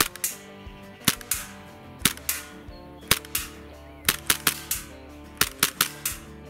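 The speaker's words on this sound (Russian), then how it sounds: "буду тестировать грингаз на модели P226" A Tokyo Marui-style P226 airsoft pistol fires green gas shots, sharp snapping cracks with mechanical clacks, first spaced singly, then in quick rapid strings, loud and close.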